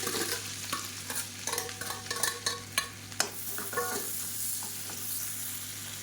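Finely chopped onions sizzle and fry in hot oil with cumin seeds, with a steady crackling hiss and a few scraping stirs of a spoon against the pan, close up.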